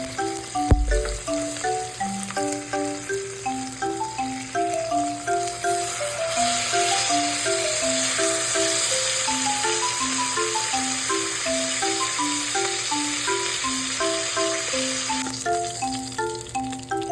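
T-bone steak frying in butter and garlic in a pan, a steady close sizzle running the whole time under loud music.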